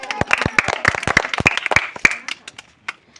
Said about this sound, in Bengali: প্রতিযোগীদের উৎসাহ দেওয়ার জন্য এক করতালি